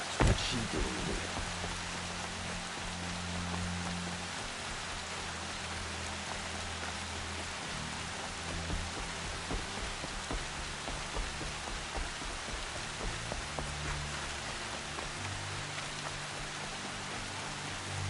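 Steady rain falls in the open-world video game Horizon Zero Dawn, a constant broadband hiss with layered low game ambience beneath it, holding at an even level throughout with no talking.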